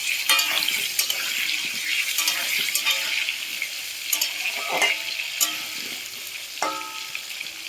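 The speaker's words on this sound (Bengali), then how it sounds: "এবার একটু ছেড়ে দেবো, ওরা ভাজা ভাজা হবে, তারপরে উল্টে দেবো। তো চলো একটু নেড়ে দেওয়া যাক।" Potatoes frying in hot oil in a pan while being stirred, a steady sizzle broken by repeated scraping and clinking strokes of the spoon, close and fairly loud.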